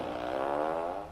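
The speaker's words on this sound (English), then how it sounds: "I will be using this turtle fart machine," Turtle fart machine toy playing a single electronic fart noise, a buzzing tonal blurt lasting about a second, close and moderately loud, fading at the end.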